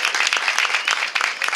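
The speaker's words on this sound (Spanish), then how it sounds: "Ellos también se merecen un aplauso" Audience applause at a book fair reading in Seville, brisk close clapping from a small crowd with a busy, irregular patter throughout the short burst.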